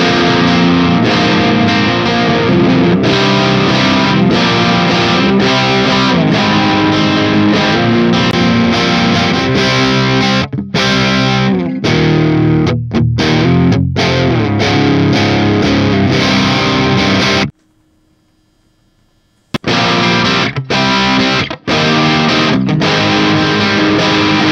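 Electric guitar played through a Joyo JaCkMan 2 Bantamp XL amp with its tone knob turned back, giving a loud, distorted, Marshall JCM-style crunch; chords and riffs run continuously, with a couple of short gaps and one two-second silence.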